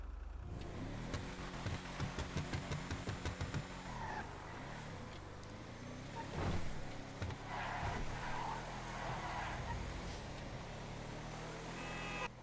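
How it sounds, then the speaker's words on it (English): The engine of a Declasse Yosemite 1500 pickup truck in a video game idles and then revs repeatedly, a steady low drone broken by rising surges, with some tire noise. "Pretty average sounding truck"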